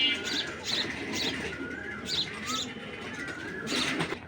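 Tournament-breed Cheeta pigeons kept by a breeder coo in repeated soft, throaty bursts close by, with faint chirps and a brief wing flutter among them.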